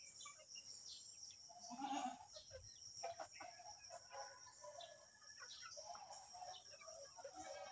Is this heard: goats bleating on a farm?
yes